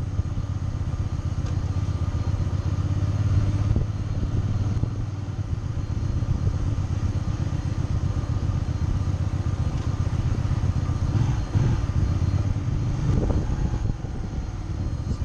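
A motorcycle engine drones steadily throughout while riding, a continuous mid-pitched rumble with slight rises and falls and no voices.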